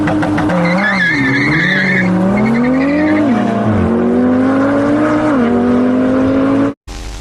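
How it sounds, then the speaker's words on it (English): A supercar drifting, its engine revving hard and close while tires squeal in long wavering tones, the loud skid holding continuously before cutting off abruptly near the end. "Next level drift going on here."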